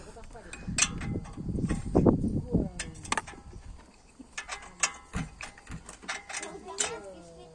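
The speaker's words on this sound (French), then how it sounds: "Et là, c'est clé Allen de 11. Donc avec cette clé là." An 11 mm Allen key working a brake caliper bolt on a Range Rover Evoque, with close metallic ratcheting clicks and clanks in irregular bursts and a brief low rumble near the start.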